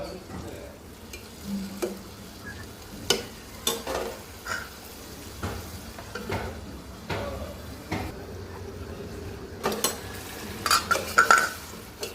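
Bitter gourd and potato curry with jhatka fish is stirred in a pan, giving intermittent scraping clatters of a spoon against metal over a faint, low sizzle, with pauses between strokes.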